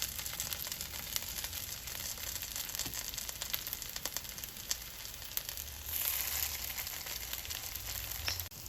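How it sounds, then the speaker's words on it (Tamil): Broccoli and sweet potato cutlets shallow frying in olive oil in a pan, a steady, soft crackling sizzle with small pops throughout and no voices. "ஒரு 2 மினிட்ஸ் ஆயில் ஹீட் ஆனோடனே ஸ்லோவாக கட்லட்டை 2 சைடும் நல்லா ஷாலோ"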